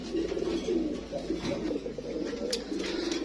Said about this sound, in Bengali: খুবই সুন্দর একটা কবুতর এটা লক্ষা হোয়াইট